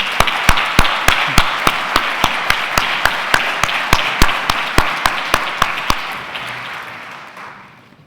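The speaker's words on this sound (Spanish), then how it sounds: "Un aplauso muy fuerte y muchas gracias." Steady audience clapping at a corporate investment strategy conference, with a fairly even rhythm of sharp claps over a dense wash of applause that thins and fades out near the end.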